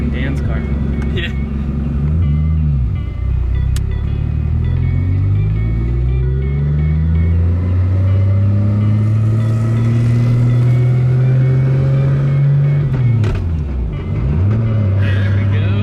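A 900 hp Nissan Skyline GTR with an AWD 2.8-liter stroker engine and HKS T51R turbo drives along a street, its deep engine drone rising and falling through shifts, loud and continuous with people talking in the cabin.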